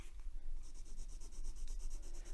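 A pencil scratches across paper in a faint, steady rubbing stroke, soft and close, with a quiet fine grainy texture and no talking.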